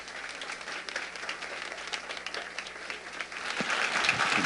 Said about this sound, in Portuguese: vamos recebê-lo com um aplauso de boas-vindas.